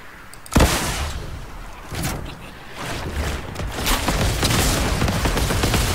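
Gunfire in Fortnite Chapter 3 Season 4, opening with a sharp loud shot followed by a sustained barrage of rapid shots and booms that keeps going through the rest of the stretch.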